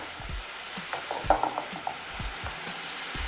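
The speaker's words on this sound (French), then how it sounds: "Donc là, je vais remuer." Stirring an onion sauce with lemon in a pan, a soft scraping and sizzling at close range, with a few faint knocks of the utensil against the pan.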